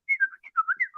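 A person whistles a quick run of short, chirpy notes that rise and dip in pitch, close up and clear with brief gaps between them, with no talking.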